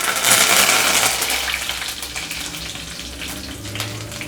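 Curry leaves with mustard seeds, cumin and dried red chilies fry in hot oil for egg pulusu, a loud dense hiss and crackle that eases slightly over time, with no talking.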